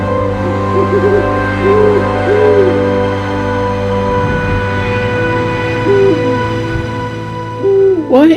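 An owl hoots in a few soft, short calls spaced out over a steady humming background, fairly clear but not close, with a brief rising call near the end.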